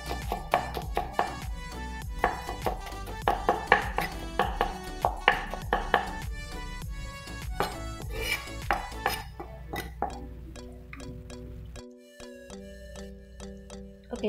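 Crushed garlic chopped with a knife on a cutting board, a rapid series of sharp wooden knocks in uneven rhythm, close and fairly loud, thinning out toward the end, with no talk.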